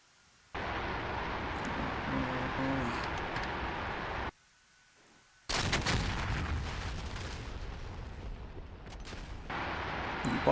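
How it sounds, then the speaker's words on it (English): Bombs from an F-4E in a DCS combat flight simulation striking ground targets, heard as long, loud bursts of rumbling blast noise broken by a short quiet gap, with no voices. "Bombs hit, but there may not have been anything there to kill"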